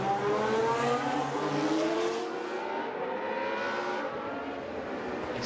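An FIA GT race car engine on the Baku street circuit, recorded during timed qualifying, roars steadily at a distance, revving and shifting pitch as the car passes, with no voices.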